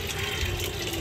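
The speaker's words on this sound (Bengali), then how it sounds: "হালকা হালকা অল্প অল্প জল দেব।" Water poured onto potted plants on a rooftop under a cloudy sky, a steady soft splashing and trickling that runs close and continuous with no talking.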